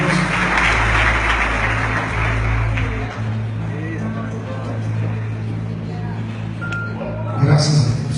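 A church congregation claps together during a worship service, a dense, steady wash of applause over a low hum that carries on for several seconds before easing off.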